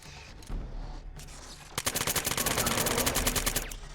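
Gunfire against a robot enemy in Killzone 3, played with a gun controller: a few scattered shots, then a rapid automatic burst of evenly spaced cracks that carries on for about two seconds, loud and close.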